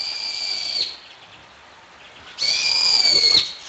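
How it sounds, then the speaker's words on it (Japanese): A bird with a striking call gives two loud, shrill, drawn-out cries close by, separated by a brief pause. "すごい声の鳥です。"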